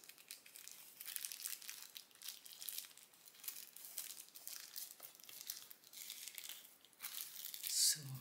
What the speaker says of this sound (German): Ich ziehe nur die Folie ab.